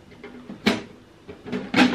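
Small twin doors of a storage case shipped from Japan clack open, with a few light knocks and a sharper click near the middle and a second burst of wooden rattling near the end, close and fairly quiet.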